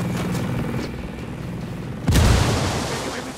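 A frag grenade explodes in the tactical shooter game Ghost Recon Wildlands, with a sudden loud boom partway through after low rumbling game ambience, followed by a fading rumble.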